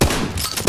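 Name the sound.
shotgun firing in the video game Disdain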